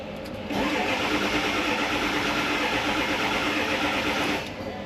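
A worn Ford 7.3 Power Stroke diesel with 400,000 miles in an F250 cranks and catches, then runs with a loud, steady, rough clatter for about four seconds before cutting off.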